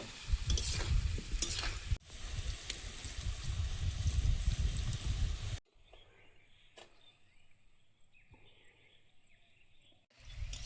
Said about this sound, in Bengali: পুঁই শাক আলুটা ভাজা হয়েছে, এবার তুলে নেব।